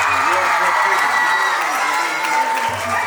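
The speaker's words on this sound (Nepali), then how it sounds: "एकचोटि जोरदार तालीले उहाँलाई स्वागत गरौँ" Audience at a school investiture ceremony claps steadily and densely throughout, a continuous wash of applause with faint crowd murmur underneath.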